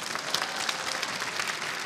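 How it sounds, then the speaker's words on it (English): Applause from the audience at the Miss Earth 2015 coronation night, a steady dense wash of clapping from a large crowd, fairly distant and soft, with no talking over it. "A round of applause, please."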